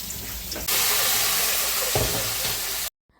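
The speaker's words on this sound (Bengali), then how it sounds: "এই শাকটা এটা দিয়ে বাগার দিল" Leafy greens with bay leaf and garlic hitting hot oil in a rice-flour curry, a sudden loud sizzle that bursts in and hisses steadily before cutting off abruptly.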